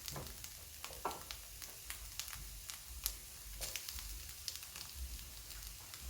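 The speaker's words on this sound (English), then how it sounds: "At this point, we can add the tomato paste." Tomato paste being stirred into frying vegetables for braised chicken: a soft sizzle under scraping stir strokes and occasional spatters, quiet and close, with no talking.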